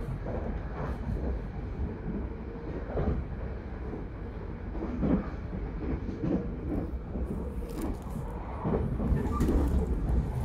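An Argo passenger train rattles along the rails in Indonesia, with a continuous rumbling, clattering roar and occasional sharper knocks, heard steadily from inside the carriage.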